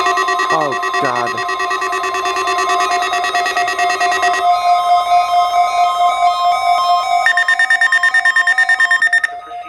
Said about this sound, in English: The proceeding was a test of the National Weather Service warning alarm tone.